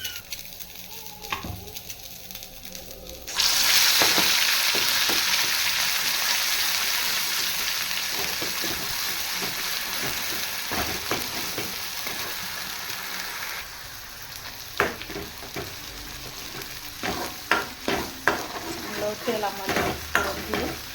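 Egg curry mixture hits hot oil in a pan with a sudden loud burst of sizzling that settles into a steady close frying hiss, with scraping stirs and clinks of a spoon toward the end.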